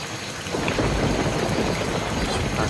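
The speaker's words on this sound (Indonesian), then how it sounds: "Cuaca masih diguyur hujan" Heavy rain pours steadily at a campsite near the sea at night, a dense continuous hiss with deep thunder rumbling underneath, loud and close throughout.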